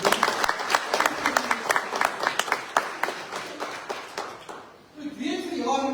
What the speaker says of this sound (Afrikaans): kom ons gee vir hulle 'n lekker hande klap.